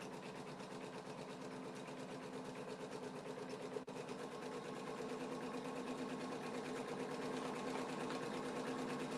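An embroidery machine stitches out a mug rug, white thread on white stabilizer with batting, running in a steady fast mechanical hum with rapid needle chatter from start to finish, close and constant with one tiny break.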